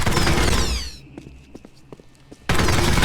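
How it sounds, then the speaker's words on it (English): Gunfire in the shooter game POSTAL Redux: a loud dense burst cuts off, then several sharp isolated shots and thuds ring out more quietly before another loud burst of fire resumes. "Shots fired!"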